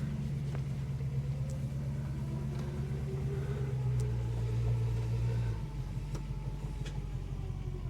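A Holden HK engine runs steadily at idle with a low, even rumble, a faint repetitive ticking from a possible lifter fault sitting on top, and a slight shift in tone partway through.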